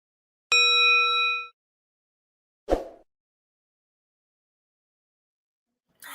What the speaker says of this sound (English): hit that notification bell like we were saying